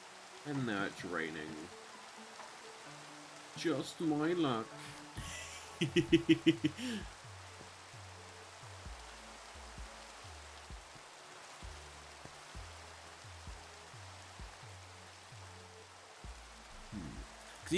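Steady rain falling in the Minecraft video game, a continuous soft hiss running throughout, with someone talking briefly over it and game music notes in the background.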